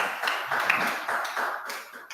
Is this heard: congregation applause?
yes